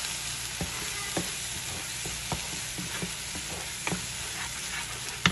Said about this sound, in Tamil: இது எண்ணெயிலே வந்து நல்லா வதங்கட்டும்.